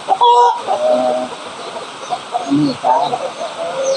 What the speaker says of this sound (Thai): อ๋อเขาเรียกไก่เขาเรียกไก่พม่า